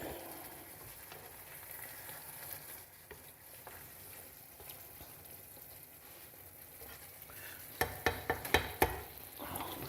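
Roasted pepper and mushroom pasta cooking in a pan, a quiet low sizzle that ends in a quick run of sharp clatters from stirring, close and without speech.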